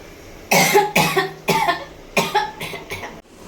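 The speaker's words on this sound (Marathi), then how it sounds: "खरं खरं मला खोकलं लागलेला कारण ते मिरचीचा वासाने ठसका लागला मला" A woman coughs from the sharp smell of chillies while cooking with spices, a series of about six harsh, close coughs in quick bursts with short pauses between, fading weaker toward the end.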